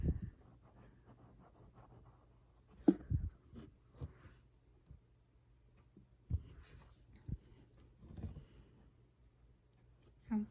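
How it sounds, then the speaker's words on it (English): Pencil on paper sketching an ovoid shape: soft, scattered scratches and light taps in short bursts, quiet and close, with long faint gaps between strokes. "Okay, so gonna draw that in there."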